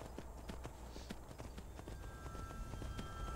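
A horse's hooves clip-clop in the video game Skyrim, a brisk, regular series of sharp hoofbeats sounding close and continuous over steady background ambience.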